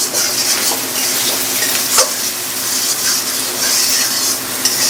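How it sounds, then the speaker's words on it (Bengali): Potatoes and garlic fry steadily in a pan, giving a continuous hiss and sizzle with occasional light scrapes and clinks of stirring throughout. "আলু আর রসুন ভাজা।"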